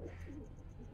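Pigeons at a pigeon club coo softly and steadily in a low, throaty murmur over a faint background hum, with no talking.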